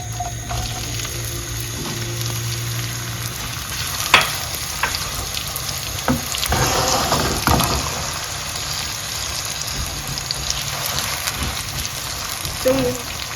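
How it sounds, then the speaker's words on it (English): Locust beans (dawadawa) and onions frying in hot palm oil for a Ghanaian egusi stew give a steady close sizzle, with stirring scrapes and a few sharper clinks scattered through. "I'll go ahead and add my locust beans or Dawadawa and the onions."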